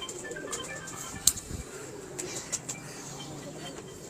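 Pigeons coo softly in a quiet setting, with low murmuring calls and a few sharp clicks and rustles rising over faint background hum.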